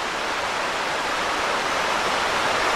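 Stream water pouring over rocks along the Cold Run Trail at Worlds End State Park, Pennsylvania, a steady broadband rush close by that fills the whole moment without pause.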